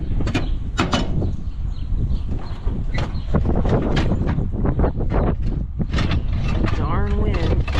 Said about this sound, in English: Darn wind.